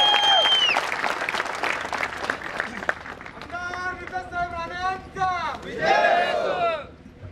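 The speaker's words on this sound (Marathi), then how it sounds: "जोरदार टाळ्या नेत्याजी राणे साहेबांसाठी" A large crowd applauds loudly at a coronation anniversary ceremony for Chhatrapati Sambhaji Maharaj in Pune. The dense clapping fills the first few seconds, then fades under a voice speaking over a loudspeaker.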